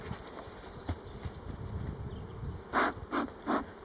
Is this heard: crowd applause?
no